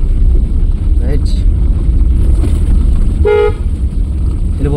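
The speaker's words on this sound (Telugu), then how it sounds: "హార్న్ కొట్టాలి." A car horn gives a short, bright toot partway through while driving in the rain, over steady road and engine rumble, with someone talking intermittently.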